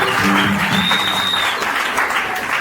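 Church congregation breaking into loud applause at a women's gathering, steady clapping from a crowd filling the room for a few seconds, with scattered cheers.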